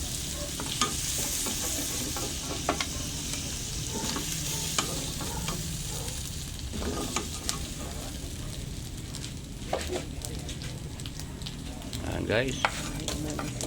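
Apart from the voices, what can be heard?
sautéing onion and garlic in pork drippings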